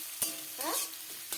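Chowmein ingredients, chopped tomato among them, stirred as they fry in a pan: soft scraping spatula strokes over a faint sizzle, with a few brief clinks, close and alone.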